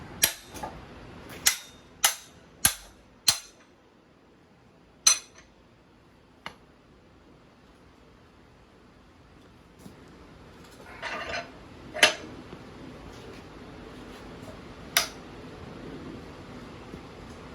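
A knife chops into a 2x4 wooden board in a test with sharp, loud impacts. About half a dozen come in quick succession near the start, then sparser, fainter knocks follow with quiet handling noise between them.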